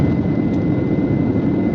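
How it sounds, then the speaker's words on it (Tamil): A passenger jet accelerates down the runway for takeoff, heard from inside the cabin as a loud, steady, dense engine roar and rumble that holds level throughout, with no voices. "ரன்வேல அப்படியே வேகமாக வந்து ஃப்ளைட் அப்படியே வானத்தில் பறக்க ஆரம்பிக்கும் போது அப்படி ஒரு ஷேக் ஆனிச்சு பாருங்க"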